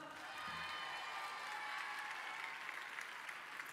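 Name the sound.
audience applause for a singer at the Zénith d'Orléans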